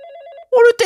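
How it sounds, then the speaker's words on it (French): A telephone in a video game rings with a steady electronic warble, then a brighter, louder burst of ringing tones follows after a brief gap. "Oh, le téléphone, il sonne."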